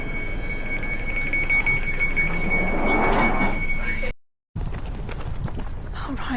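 Rumbling interior of a moving train on a day trip, a steady broadband roll with a thin high whine, briefly cutting out before resuming.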